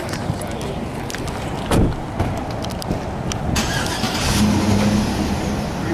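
A Ford F-150 pickup truck engine rumbles nearby and builds into a rising rev, with a few sharp clanks and rattles along the way.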